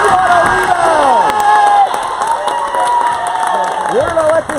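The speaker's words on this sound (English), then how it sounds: "We're gonna let this crowd die down here." Crowd at a women's college basketball game, Knights vs. Christendom, cheering and shouting loudly and continuously after a rebound, with voices and whoops over the roar, dipping slightly near the end.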